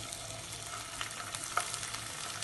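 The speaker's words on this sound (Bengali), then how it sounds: "এবার এটা ঘিয়ে সামান্য একটু নাড়িয়ে নেব আর হালকা একটু ফ্রাই করে নেব।" Grated ginger fries gently in ghee as it is stirred, a faint, soft sizzle with light scraping ticks and a small clink, quiet and without talk.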